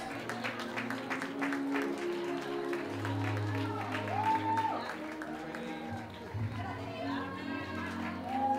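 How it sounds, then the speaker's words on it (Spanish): Crowd applause for race finishers at an awards ceremony for the Desafío Pinar Extremo trail race, steady clapping with chatter and a public-address voice over it. "Fuerte aplauso para Carolina Linares"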